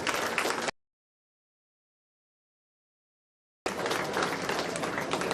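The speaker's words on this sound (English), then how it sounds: "round of applause." An audience at a women's talent council celebration of diversity applauds in a dense burst of clapping, cut off by about three seconds of complete silence before the applause resumes just as full.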